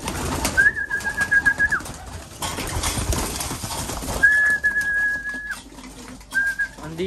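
Pigeons kept for breeding sound close by, with soft bird calls, thin sustained whistling tones and irregular shuffling knocks. No one speaks.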